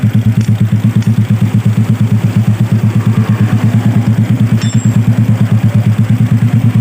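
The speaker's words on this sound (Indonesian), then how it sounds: "Ya, motor sudah menyala dan sudah tidak ngebul ya." A rebuilt Yamaha Vega motorcycle engine idles close by with a loud, rapid, even putter, a steady mechanical pulse throughout with a faint metallic clink partway, no talk.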